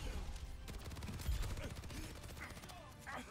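Rapid gunfire in Overwatch 2, a fast even rattle of shots in a quick burst, fairly faint and mixed with other game noise.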